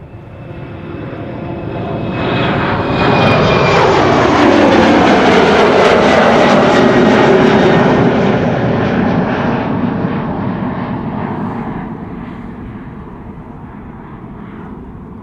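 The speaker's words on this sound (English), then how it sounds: "KLM Embraer 190 outbound Bergen" A KLM Embraer 190 jet departs Amsterdam Schiphol bound for Bergen: a loud engine roar builds, peaks as it passes close by, then fades slowly into the distance.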